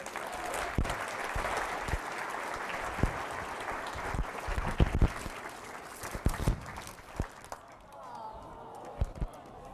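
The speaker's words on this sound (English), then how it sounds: "please give her a round of applause" A luncheon audience at a chamber of commerce business expo applauds for Nicole in a steady crowd clap, with louder individual claps standing out and the clapping thinning out toward the end.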